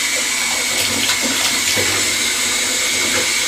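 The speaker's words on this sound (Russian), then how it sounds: "Ну, включаем воду." Water from a tap pouring into a bathtub, a steady loud rushing splash close by with no break across the few seconds.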